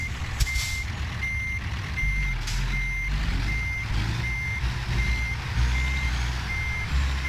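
A truck backs a trailer in American Truck Simulator, its reversing alarm beeping in an even, regular rhythm over a low, rumbling diesel engine, with a faint hiss of air near the start.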